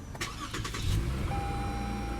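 A 2017 Lexus GS350 with a 3.5 liter V6 starts by push button: a brief starter crank, then the engine catches and settles into a smooth, steady idle, heard moderately close.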